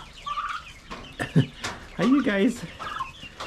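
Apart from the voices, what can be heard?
chickens clucking, pullets and cockerels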